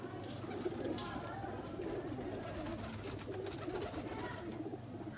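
Highflyer breeder pigeons cooing steadily, a soft continuous murmur of several birds close by with low background noise throughout.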